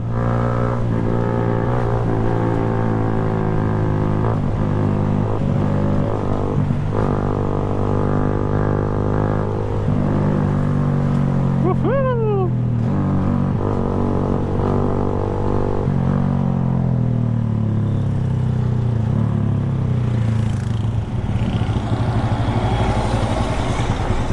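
A loud, raw Yamaha Sniper 150 motorcycle engine roars with its muffler removed, rumbling and revving up and down in bursts, close and unbroken throughout.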